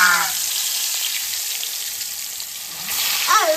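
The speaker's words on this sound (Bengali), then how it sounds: "আর এখানে আলুটাকে ফ্রাই করছে।" Potatoes frying in hot oil in a pan give a loud, steady, close sizzle that holds for the whole stretch and grows slightly hissier near the end.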